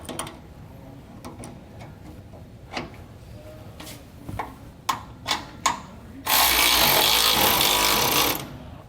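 An impact gun snugs down bolts on a Blue Ox 2-point weight distribution hitch with sway control, firing one loud, sustained rattling burst of about two seconds, preceded by scattered metallic clicks and taps.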